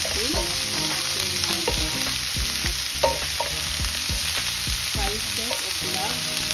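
Oil sizzles loudly as aromatics are sautéed for Filipino chicken tinola, a dense, close frying hiss broken by repeated rhythmic scrapes and knocks of a spatula stirring the pan.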